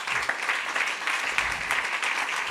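A church congregation applauding and acclaiming the Lord, a sustained, dense crowd clapping that fills the room at steady loudness, with faint voices beneath it.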